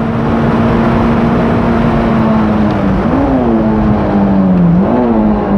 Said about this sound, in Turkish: Mesela 3'le gidiyorum, heel and toe yapmayacağım. Bak nasıl attı arabayı.